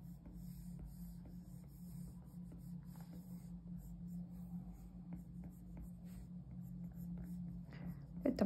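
A stylus scratches and sweeps across a tablet screen while a bear is drawn in Procreate, soft, steady rubbing strokes under a low background hum, faint and close throughout.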